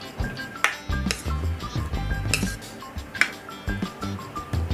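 A spoon stirring cucumber raita with yogurt and thinly sliced onion in a bowl gives repeated light clinks and taps against the bowl, an irregular rhythm of close scraping and knocking with no talk.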